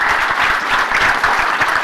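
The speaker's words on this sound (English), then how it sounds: "Let's give these guys a great round of applause." Conference audience at a session on using technology for efficiency gives a loud, dense, steady round of applause that fills the whole stretch without a break.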